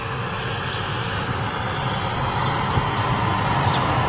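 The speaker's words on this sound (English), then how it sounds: "TUI Dreamliner coming in." A TUI Boeing Dreamliner arriving at Manchester Airport, a continuous loud broadband engine rumble with a steady hiss that swells slightly toward the end.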